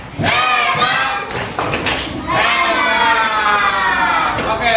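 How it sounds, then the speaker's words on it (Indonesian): Children in a classroom join their teacher in a rhythmic cheer clap, sharp clustered claps mixed with loud group chanting and talk, close and continuous. "kita tepuk hebat dulu untuk kita semua. Tepuk hebat."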